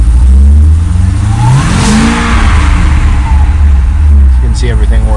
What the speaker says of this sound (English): Rev it up a tad bit.